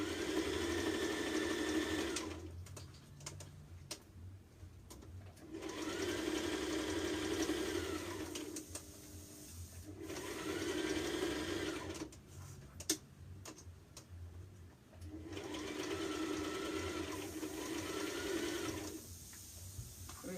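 A sewing machine stitches down a dress facing in four close, steady bursts of rapid whirring, each separated by a short quiet pause.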